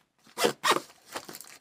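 A quick zipper on a survival kit bag pocket pulled in a few short rasping strokes, close and crisp, with no talking.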